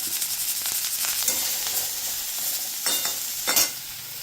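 Onions sautéed in a pan give a constant bright sizzle close to the microphone, with occasional sharper crackles and stirring scrapes over about four seconds.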